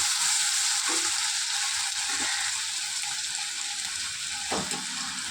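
Cut potatoes hit hot oil in a pan for a spice-free puti fish curry, giving a steady, close sizzle throughout with a few brief louder bursts as pieces are stirred or dropped in.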